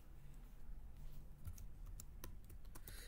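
Computer keyboard being typed on, a steady run of light plastic key clicks at close range over a low background hum, with no voices.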